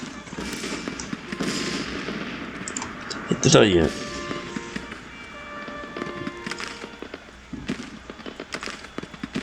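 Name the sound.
explosions in Grand Tactician: The Civil War video game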